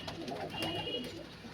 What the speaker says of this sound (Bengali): এই যে কালসিরা পায়রাগুলো দেখে নাও